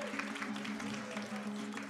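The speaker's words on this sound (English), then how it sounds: "Potlesk nové porotě, děkujeme." Audience applause greeting the new jury at the European Slam Poetry Championship final in Košice, a steady wash of clapping from a crowd, fairly faint and even, with a held tone running underneath.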